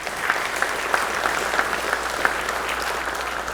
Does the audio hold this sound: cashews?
no